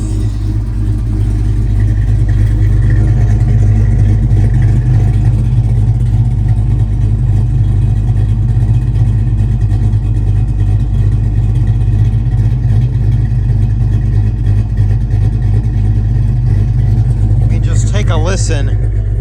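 A 1976 Plymouth Volare's engine runs steadily through its dual exhaust, a loud, deep, continuous rumble close by, with a person talking over it.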